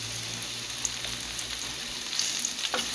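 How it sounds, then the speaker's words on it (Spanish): A battered fish fillet fries in hot oil in a pan, giving a loud, steady close-up sizzle with a few brighter crackles toward the end and no voices. "Y lo ponemos en el sartén en aceite caliente."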